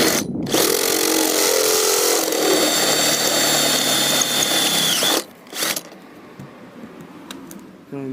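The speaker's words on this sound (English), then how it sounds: "So I've got a step drill bit here, goes up to 10mm, which is what I need" A power drill with a 10mm step drill bit widening a hole on an MX5 whines loudly for about five seconds, steady then winding down, followed by a couple of short quieter bursts and near silence.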